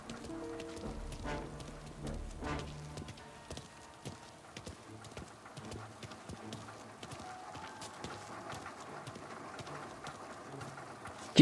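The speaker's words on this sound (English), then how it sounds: "It's raining." Rain patters steadily in the Mafia Definitive Edition game world, a soft constant wash under rhythmic clip-clop of horse hooves and scattered sharper taps, fairly quiet throughout with no voices.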